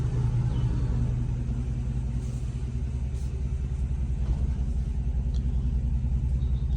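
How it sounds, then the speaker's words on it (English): Pickup truck driven out of a home garage into the driveway, a low steady engine rumble running continuously and fairly close, with no voices over it. "I will pull the truck out into the driveway here"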